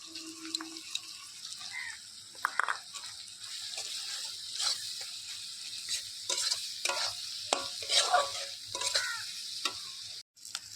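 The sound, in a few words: onion, chili and spices being sautéed and stirred in a pan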